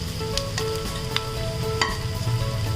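Shallots and onions sauté in a pan with a steady, close sizzle, punctuated by a few brief scrapes and clicks of a spoon stirring them.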